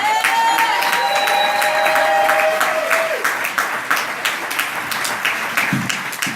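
A comedy club audience at a Broadway club bursts into loud, sustained applause and cheering, a dense wash of clapping with whoops that gradually thins into scattered claps.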